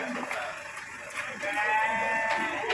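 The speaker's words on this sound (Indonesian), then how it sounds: "Ini ada domba. Tuh domba." Sheep bleat faintly in a rural yard, with a few short calls rising over low background noise and quiet voices.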